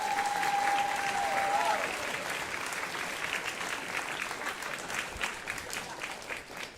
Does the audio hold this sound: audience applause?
yes